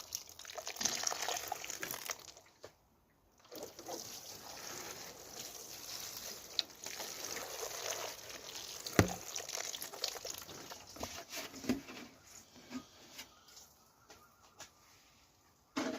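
Cold tap water poured over pea seedlings sitting on a bench, a soft trickling and splashing that comes and goes in bursts, faint and close, with birds chirping in the background.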